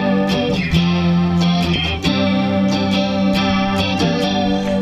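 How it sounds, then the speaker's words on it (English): Electric guitar played through a ModTone MT-AQ chorus pedal, with chords and single notes shimmering and warbling in a steady modulated sweep, loud and close with no talking. "but it's got that cool chorusy effect to it."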